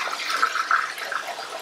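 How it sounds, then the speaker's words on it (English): A household toilet that turns out to be clogged is flushed in a bathroom, giving a continuous close rush of swirling water that surges and gurgles for under two seconds with no voices. "you go to flush the toilet"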